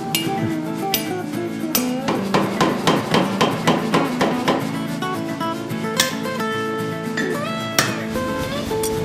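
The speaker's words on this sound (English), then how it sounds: "I am here in Marquette hammering iron." A blacksmith in a Marquette shop hammers hot iron into a hatchet: loud, close, ringing metallic strikes land in quick steady runs with short pauses, with no voices.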